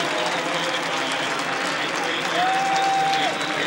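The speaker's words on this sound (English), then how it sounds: "that applause is for Chris Saran as he comes out of the cage" Crowd in the Carrier Dome applauds a Syracuse lacrosse goalie leaving the cage during a 1993 game against Pennsylvania, a broad, steady roar of clapping and cheering throughout.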